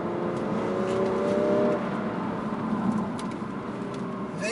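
A BMW 435d M Sport with its straight-six diesel pulls hard under acceleration, a steady, loud engine drone with rising harmonics heard from inside the car, some birdsong faintly in the background.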